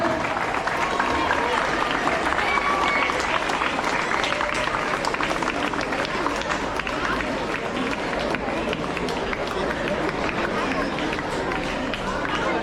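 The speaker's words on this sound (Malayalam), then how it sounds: "എല്ലാവരും ഹർഷാരവത്തോടുകൂടി കയ്യടിയോടുകൂടി ഉദ്ഘാടനം" Sustained applause and crowd noise from an audience at a school's 123rd anniversary inauguration, steady and dense throughout with a general hubbub underneath.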